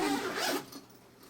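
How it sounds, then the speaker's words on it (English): A zipper on a Scentlok OZ Renew gear chamber with a thick rubberized lining is pulled in one quick, close rasping stroke, then a short near-silent tail. "The zippers are super high quality."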